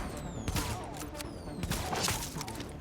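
Gunfire in the shooter The Division, scattered sharp shots and short bursts at a moderate distance over a busy, fairly quiet combat background.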